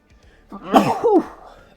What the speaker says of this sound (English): Oh, sneeze my brains out.